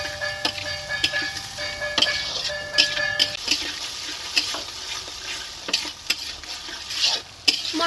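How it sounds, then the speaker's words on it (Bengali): A spice paste of salt, turmeric and chopped tomato stirred and frying in a pan, soft sizzling under repeated scraping and tapping of a spoon against metal, with no voices. "এখন মশলাটাকে ভালো করে কষিয়ে নেব।"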